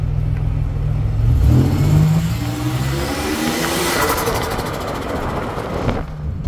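A 1987 Buick Regal T-Type engine revs lightly at low throttle, a steady close engine note that rises and swells, then settles back toward idle near the end.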